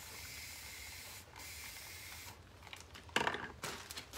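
A few short, soft hisses from a spray bottle misting paint brushes, separate bursts close by against a quiet background.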